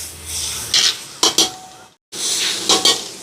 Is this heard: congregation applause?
no